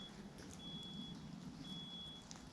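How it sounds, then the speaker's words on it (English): A smoke alarm beeps at a campsite in the Lake District, sounding far away. Two thin, faint tones about a second apart rise over a steady outdoor background hiss. "That sounds like a smoke alarm."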